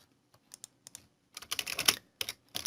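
Bursts of computer keyboard typing as code is entered, quiet isolated keystrokes at first, then a denser rapid run of clicks, close and crisp with brief pauses between.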